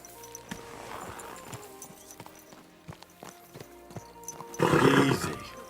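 A horse in a video game clops along with steady hoofbeats, then lets out a loud, close whinny near the end over a low game music bed.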